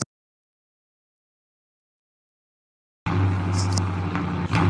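A 2018 Ford Mustang GT and a 2005 Ford Mustang in an eliminator drag race, engines droning loud and steady after three seconds of silence, with a low rumbling roar.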